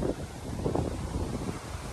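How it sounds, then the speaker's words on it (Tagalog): Strong northeast monsoon wind at a seaside resort buffets the microphone in a continuous heavy roar, with deep gusty rumbling throughout. "dahil amihan ngayon, napakalakas po ng hangin pag amihan"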